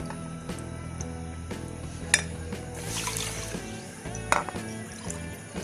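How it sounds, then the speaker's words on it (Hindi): Water is poured into a pot of sugar and green cardamom for gulab jamun syrup, a faint trickle with occasional clinks of metal and utensils nearby, no speech. "डबल पानी डाल दिया।"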